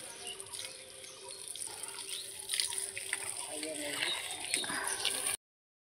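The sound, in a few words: watering rooftop garden plants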